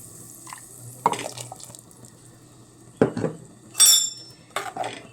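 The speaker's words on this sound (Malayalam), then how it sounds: "അതിൽ കുറച്ച് വെള്ളം കൂടെ ചേർത്ത് നമുക്ക് ഒഴിക്കാം" Scattered clinks of utensils against a pan of chutney, then a brief splash of water poured in, with more clattering afterward.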